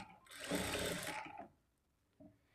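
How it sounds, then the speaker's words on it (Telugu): A sewing machine stitches a lining blouse straight along a marked line: one loud, buzzing run of about a second, then it stops, followed by a brief faint whir. "ఇలా ఒకే చోటికి వచ్చేలాగా పట్టుకొని ఈ మార్కింగ్‌కి స్ట్రెయిట్‌గా స్టిచ్ చేసుకోవాలి"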